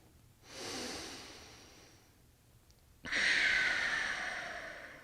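Two slow, deep breaths during a quiet yoga recovery session: a soft inhale, a pause, then a louder, airy exhale, close and intimate with no talking.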